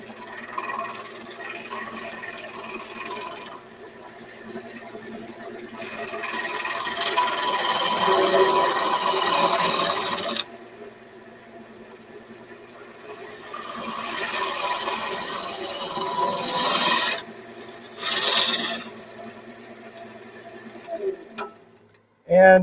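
Wood turning on a lathe with a large skew chisel, a scraping, rasping cut that comes in several long passes of a few seconds each, with pauses between them and a steady motor hum underneath.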